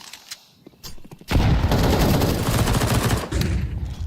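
SMG gunfire in a Counter-Strike esports match at PGL Astana, FURIA against Gentle Mates: a few isolated shots, then a long, loud, rapid automatic burst lasting several seconds.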